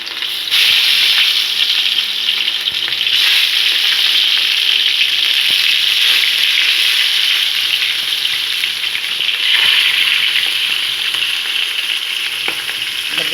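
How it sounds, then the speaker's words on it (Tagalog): Round scad fish (galunggong) fry in a pan with a loud, continuous sizzle and crackle that holds steady close up, with occasional sharper pops. "Prito ng galunggong."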